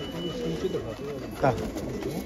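A pigeon in a loft coos softly in the background while someone talks over it, with a brief louder rustle or flutter near the middle.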